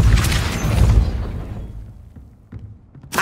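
A Depulso force spell strikes in Hogwarts Legacy near a gate, landing as a loud, dense boom that rumbles and decays over about a second and a half, followed by a few small clanks and a sharp rebound burst at the end.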